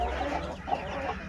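Mother hen clucking softly in a low, continuous murmur on a farm, close and moderately quiet, with no talking over it.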